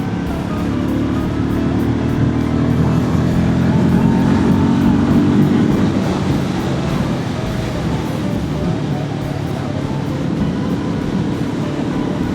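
A Royal Enfield Guerrilla 450 motorcycle ridden fast on the road, a steady loud roar of engine and wind rushing past, constant throughout with a slight swell in the middle.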